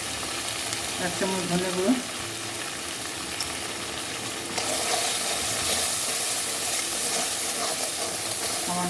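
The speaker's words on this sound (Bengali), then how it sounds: "ঝাল দিয়ে লঙ্কা দিয়ে মশলাটা এখন কষে নেব।" Spice paste with chilli and a spoonful of coriander powder frying in a pan, giving a steady close hiss and sizzle that grows louder and brighter about halfway through, while someone talks briefly near the start.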